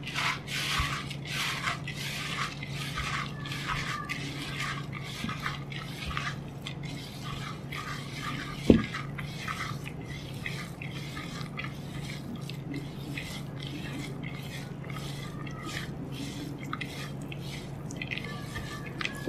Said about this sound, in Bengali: এখন এটাকে খুব ভালোভাবে মেখে নিতে হবে।